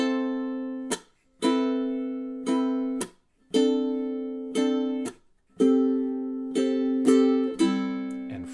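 Ukulele playing measures 7 and 8 of a dynamics etude: a series of plucked chords and notes ringing out and decaying, separated by short silent gaps, in a steady rhythm and played alone at close range.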